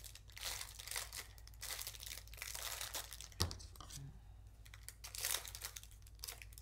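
Plastic packaging of small finger protectors for crafting being opened, giving repeated close crinkling and tearing with a sharp snap midway, no talk.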